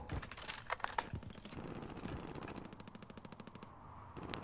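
Rapid automatic gunfire from a battle royale shooter game set in Verdansk, fast crackling bursts in close succession, some loud and near, others thinner, with a sharp final shot and no voices.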